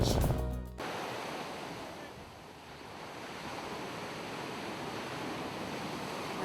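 Ocean waves on a North Shore beach, a steady, broad wash of surf with wind noise after a brief clattering start.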